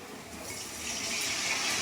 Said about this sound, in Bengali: এবারে আমি কি করব, এতে জল দিয়ে দেবো।